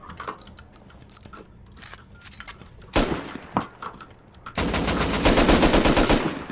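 AK rifle gunfire in the video game Rust: short bursts of rapid shots crack out, then a longer sustained burst of automatic fire, loud and close over quieter game sounds.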